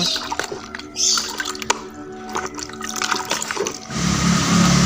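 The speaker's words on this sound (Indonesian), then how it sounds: "kita campur aja, kemudian kita aduk sampai rata supaya larut sempurna" Water and rooting-hormone powder are mixed and stirred until dissolved for soaking grape cuttings, giving close sloshing and swirling liquid sounds that grow louder toward the end.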